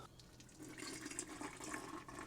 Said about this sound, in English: I'm going to use Lou's hot water bottle.